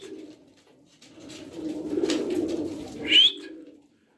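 Pigeons coo in a loft, a soft low throaty coo swelling and fading over a few seconds, close and quiet, with one brief high chirp near the end.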